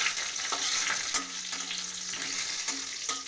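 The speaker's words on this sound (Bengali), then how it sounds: "জিরে তেজপাতা ফোড়নটা একটু নাড়াচাড়া করেই" Cumin seeds and bay leaf fry in hot oil as a tempering, a constant close sizzle and crackle broken by several soft scrapes and knocks of stirring, with no voices.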